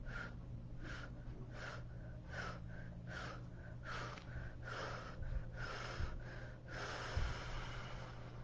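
Slow, rhythmic breath sounds, soft nasal inhales and audible exhales repeating over a low steady hum, from guided breath work.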